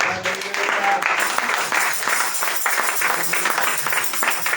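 Church congregation applauding at a French-language sermon, steady clapping filling the room for several seconds at close range, with a few voices mixed in.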